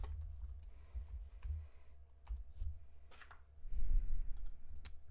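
Computer keyboard typing during an online $2/$4 Fun Mix poker game on Phenom Poker: scattered sharp key clicks in short bursts, close and moderately loud, over a low steady room hum.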